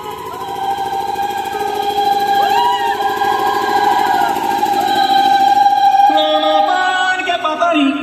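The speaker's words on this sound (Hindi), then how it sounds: "और इधर हो गई इससे जनरेटर चालू।" A generator runs at a picnic setup near a loaded tractor, giving a loud, steady mechanical drone with strong tonal hum and rattling throughout, alone with no talk.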